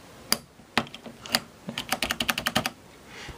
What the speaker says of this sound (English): listen to this typing sound